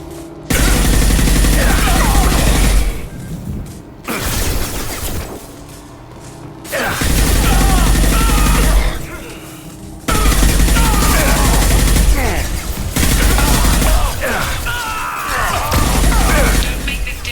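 Gunfire crackles in the Mass Effect 2 video game, loud, close bursts of rapid shots and impacts in long sustained stretches, broken by short lulls with mechanical clatter.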